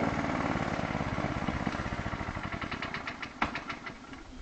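An engine runs hard while a vehicle does donuts in the dirt, a loud continuous roar that settles into a rapid, choppy pulsing beat, with a sharp pop near the end.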